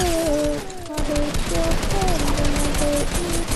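Gunfire in Fortnite: continuous rapid bursts of automatic shots, loud and close, running steadily with talk mixed in.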